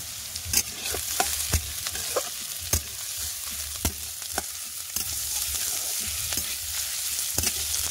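Chopped onion, garlic, ginger and slit green chilies fry together in a pan, a constant hissing sizzle broken by scattered sharp clicks and scrapes of a spatula stirring, close and unaccompanied by voices.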